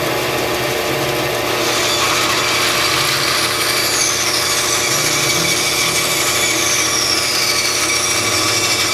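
Power saw running against a fence to cut a wooden Flexcut carving knife handle in half: a loud, steady mechanical whine and grinding drone that continues without a break, no speech.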